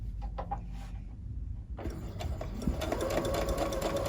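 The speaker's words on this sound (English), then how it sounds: "Put it underneath my machine, and I'm going to start stitching on my triangle off of my main square." A sewing machine stitches a fabric triangle onto a square of a scrappy wonky star quilt block at a quarter-inch seam. The steady motor whir starts after a quieter moment and runs continuously and close, with no voices.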